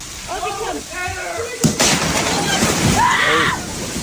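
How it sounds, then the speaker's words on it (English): Rain from a hurricane pours through a window into a home and suddenly gives way into a gushing, waterfall-like rush of water. People talk before and during the sudden surge. "Water leaking from a window into your home, then it gives way into a full-on waterfall."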